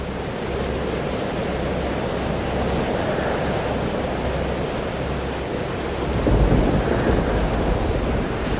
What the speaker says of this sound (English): About the storm? It's happening again.